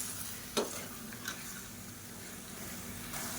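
Half a kilo of chicken sautéing in masala in a pan for a pepper chicken gravy, a quiet steady sizzle with a couple of soft spoon taps near the start.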